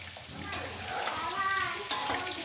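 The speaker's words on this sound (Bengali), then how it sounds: "এখন আমি হলুদ দিয়ে নুন দিয়ে ভাজছি" Steady sizzling of boiled potatoes frying in a pan with turmeric and salt, with a couple of sharp scraping stirs, clear and close.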